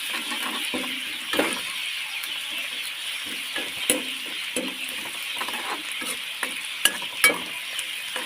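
Ginger and garlic go into a bitter gourd stir-fry in the pan, with a steady loud sizzle and repeated scraping spoon strokes throughout and no voices.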